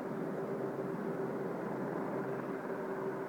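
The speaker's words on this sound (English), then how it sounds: "Two helicopters floating, hovering one spot." A steady, droning rotor and engine hum holds constant throughout from two police helicopters hovering at a distance, with no voices.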